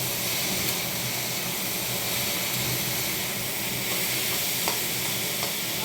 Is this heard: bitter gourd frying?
yes